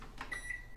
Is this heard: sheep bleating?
no